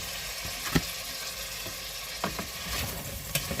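Squid frying in a hot pan, a steady broadband sizzle with a few brief clanks of utensil against metal, close and continuous, with no voices.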